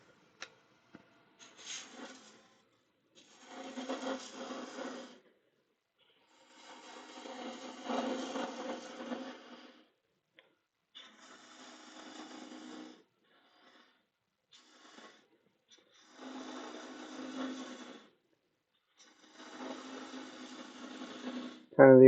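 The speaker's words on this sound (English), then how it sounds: "I know my bowl gouge will actually do this quicker and easier" A bowl gouge cuts a spinning bowl on a wood lathe in repeated bursts of rough, rasping shaving noise, each lasting a couple of seconds and separated by near-silent pauses.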